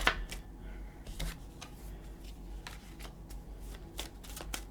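A deck of tarot cards is shuffled by hand, giving quick papery riffles and soft slaps in short bursts, heard close up and fairly quiet, with no talk over it.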